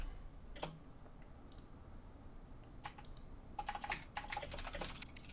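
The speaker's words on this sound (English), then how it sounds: "My keyboard's kind of loud." Quiet keyboard typing, scattered clicks at first, then a quicker burst of keystrokes, close and faint against a low background hum.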